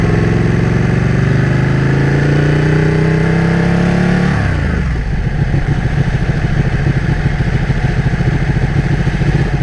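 A 2015 Ducati 1299S engine revs up through a rising whine, then drops abruptly into a rough, throbbing idle-like pulse, loud and close with no talking.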